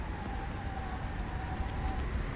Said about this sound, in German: Ach, das regnet sogar draußen.